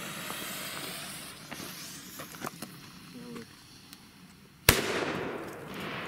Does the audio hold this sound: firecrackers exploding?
yes